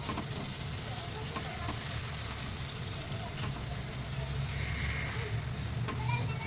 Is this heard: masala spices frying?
yes